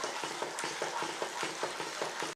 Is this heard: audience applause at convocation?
no